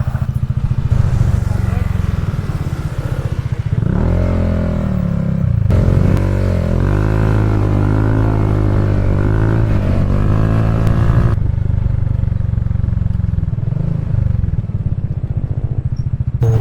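A motorcycle climbing a steep road, its engine loud and close throughout, labouring and rising in pitch under strain, with revs swelling and easing as it works up the incline.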